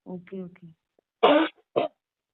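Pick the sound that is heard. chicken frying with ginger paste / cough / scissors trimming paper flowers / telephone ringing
cough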